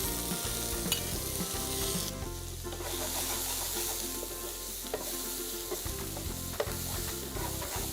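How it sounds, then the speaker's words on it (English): Loud continuous sizzling of chilies, green bell pepper and yellow bell pepper frying in a hot pan, with occasional scraping stirs over the steady crackle. "Just look at that, the sizzling vegetables."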